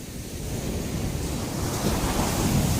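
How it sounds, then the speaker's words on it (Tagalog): Loud, continuous roar of large ocean waves crashing on the shore at Baybay beach, Tiwi, Albay, with wind buffeting the microphone throughout. "ang lalaki ng mga alon"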